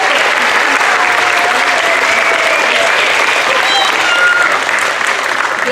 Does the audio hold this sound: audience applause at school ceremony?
yes